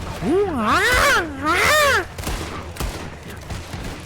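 Gunfire in the video game Red Dead Redemption 2 on Guarma island: after a long wavering vocal cry, several short sharp shots crack in quick succession over background game ambience.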